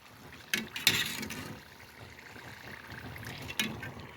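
Briouats fry in oil in a casserole with a soft, steady sizzle, broken by a few sharp clinks and stirring sounds from utensils. No one speaks.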